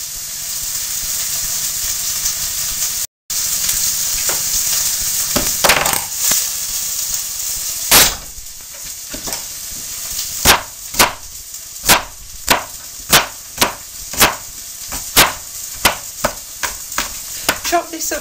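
Onions with whole-clove Chinese garlic stirred in a hot pan, a steady close sizzle with loud rhythmic scraping strokes that grow regular in the second half.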